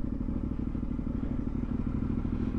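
A KTM 1090 Adventure R motorcycle descends a rocky downhill track, its engine a steady low rumble with clattering and thudding from the stones underneath, close and continuous throughout.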